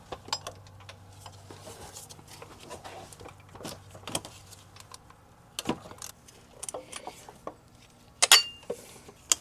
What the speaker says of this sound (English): So now I'm using a 12 millimeter for the bolts, and I'm just going to break them all loose.